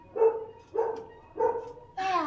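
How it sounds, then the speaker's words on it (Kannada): A dog outside gives three evenly spaced barks, then a higher yelp at the end, heard at a moderate distance in an otherwise quiet room. "ನಾಯಿ ಬೊಗಳ್ತಾ ಇದೆ ಈಚೆ"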